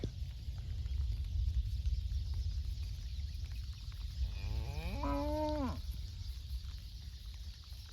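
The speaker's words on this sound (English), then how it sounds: "Love seeing red cattle on green grass." A red cow on green pasture on a farm gives a single drawn-out moo at mid-distance over steady outdoor wind and background rumble.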